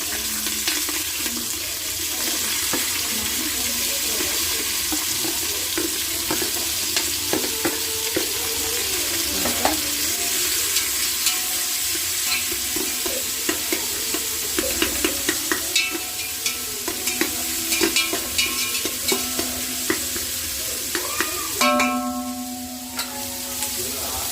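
Onion and green chillies with fennel seeds sautéing in a pan, a continuous close sizzle with frequent scraping stirs and a clink near the end.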